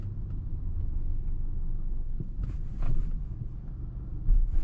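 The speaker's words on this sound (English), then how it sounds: "And it kicks on and off the engine quite a lot to save emissions and also the consumption" A 2024 Mercedes GLC Coupe AMG with a 40-volt mild hybrid system, its engine restarting through auto start-stop during a night drive: a steady low rumble swells in brief surges as the engine kicks back on, with no talking.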